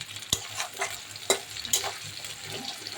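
Shrimp frying with ginger and garlic in a pan with taro stolons, a soft steady sizzle broken by a few sharp scraping stirs of a spatula, close up and with no talking.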